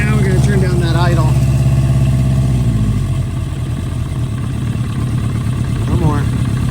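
A 1973 Honda 350 Four motorcycle engine idles after a cold start, a close, loud, throbbing mechanical chug with a slight rise in revs near the end.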